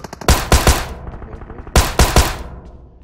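Two loud bursts of automatic gunfire from a bot in the battle royale game BGMI, each a rapid cluster of three or four sharp cracks with echoing tails, separated by a short lull.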